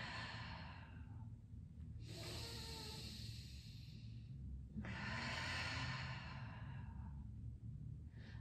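Slow, deep breathing during a gentle post–breast cancer exercise, held in position: two long, airy breaths, each a soft hissing inhale or exhale lasting a few seconds, close and quiet with pauses in between.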